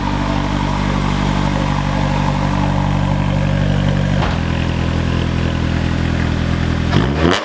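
A Honda S2000 with an aftermarket exhaust idles close by in a steady, loud, deep rumble, then the note dips briefly around the middle and picks up again with a short blip near the end.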